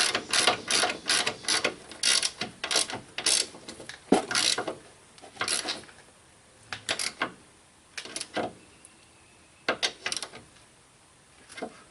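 A hand ratchet tightens the upper control arm ball joint nut on a 2000 Honda Civic EX, giving sharp clicking bursts in short irregular runs. Brief pauses fall between the runs, with no talking.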